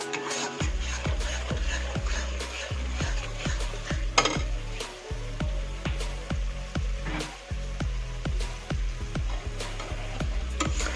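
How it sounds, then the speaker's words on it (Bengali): Spice paste of onion, poppy seed, chili and turmeric fries in a pan for a prawn biryani. A spatula scrapes in a regular, rhythmic series of strokes over a soft sizzle, with no speech. "তাহলে আমি মশলাগুলো ভাজি নিবে দেখছ"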